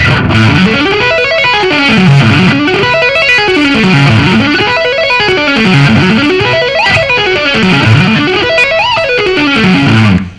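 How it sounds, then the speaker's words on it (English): A loud distorted rock electric guitar plays a flowing arpeggio with hammer-ons and pull-offs on its top half, notes sweeping up and down in smooth repeated waves without pause and alone throughout. "try doing some hammer-ons and pull-offs on the top half of the arpeggio"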